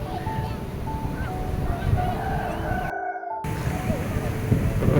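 Blustery sea wind at Parangtritis beach on the Yogyakarta coast, a steady broad rush with a low surf rumble underneath, briefly cut out for a moment before resuming.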